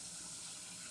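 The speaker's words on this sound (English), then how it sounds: "We're going to cover this ham hock up with water and the kidney beans." Water poured from a tap over a ham hock and kidney beans in a pot, a steady, soft rushing stream heard alone.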